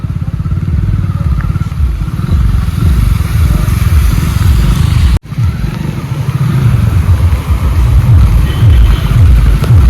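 A motorcycle rides through water along a flooded road in Rajasthan in bad weather. The engine drones loud and close for the whole stretch with rough clattering, broken by one brief sharp dropout midway.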